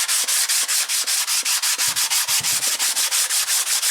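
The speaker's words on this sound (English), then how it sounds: "And then I'll take my fine sandpaper and just" Fine sandpaper on a soft sanding block is pushed back and forth across a surface by hand, a loud, even, rhythmic scratching rasp repeating about five strokes per second with no talking.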